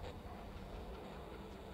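A train rolls along in the video game Voidtrain, giving a steady, low, continuous rumble that stays quiet and even throughout with no voices.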